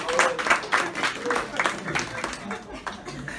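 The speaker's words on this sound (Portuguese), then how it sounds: "uma salva de palmas para a tapaué da Vanessa" Short round of scattered clapping from a church congregation during a sermon, uneven individual claps with a little crowd murmur and a chuckle, moderately close and fading toward the end.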